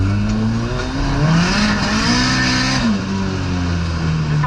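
A borrowed car drifts on a wet track in the rain, its engine revving loud and steady with rising and falling pitch, close by and with no voices over it.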